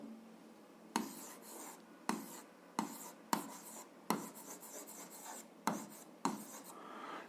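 A pen or chalk writes a formula by hand in short, scratchy strokes, about eight separate bursts with brief pauses between them, close and fairly quiet.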